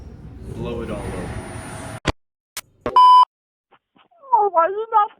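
A single short electronic telephone beep rings out clearly in near silence, preceded by a couple of sharp clicks and followed by a voice speaking.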